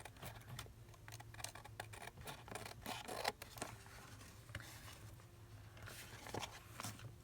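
Scissors snip through fabric in a quiet room, with a run of soft, close clicking cuts and faint handling noises between them.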